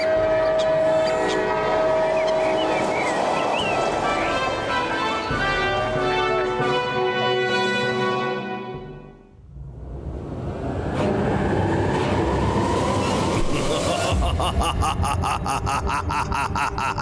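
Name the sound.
flying train moving, in a cartoon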